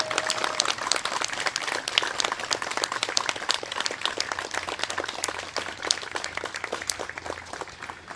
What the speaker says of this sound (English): Can we all give them a round of applause for what they achieved?